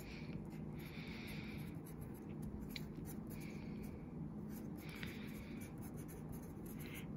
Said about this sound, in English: grab my pencil, come here, and write my notes